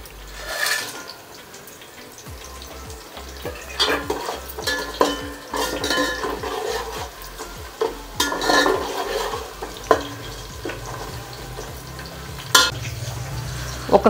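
Spices and half-fried onions fry in a pan for a biryani, with repeated scraping and stirring, clinks of a metal spoon against the pan, and a continuous sizzle underneath.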